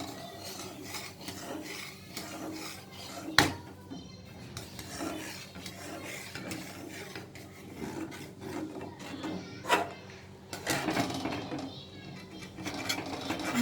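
Spoon scraping thickening milk palkova around a pan, a quiet continuous rasping scrape with a few sharper knocks, a cat meowing faintly in the background.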